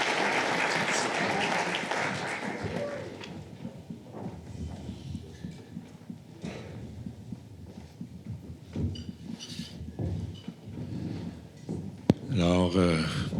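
Audience applause at a forest summit, a burst of clapping at the start that fades over a few seconds, then a voice speaks to the room and some scattered sounds follow.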